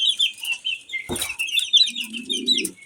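Farm chicks cluck and peep in a steady high chatter, with a brief thump partway through and a low clucking near the end.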